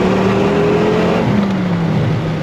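A 1993 Dodge Viper RT/10 V10 engine booming through its side pipes: a loud, close, steady drone under throttle, with pitch easing slightly downward, no talk.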